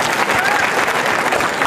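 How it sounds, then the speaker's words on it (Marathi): Dense, sustained applause from a large crowd at a political protest rally in Ahmednagar, steady clapping filling the whole stretch with a voice faintly over it. "यांच्यासाठी जोरदार टाळ्या वाजवा."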